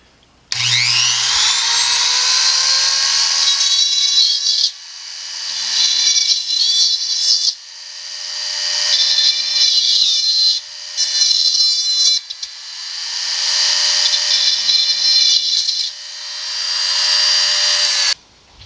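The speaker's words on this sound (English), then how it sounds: "I'm going to use the ryobi tool, and I'm going to start drilling a series of holes" A high-pitched Ryobi power drill whines in repeated runs, spinning up and drilling holes into a gourd for several seconds each, separated by brief pauses.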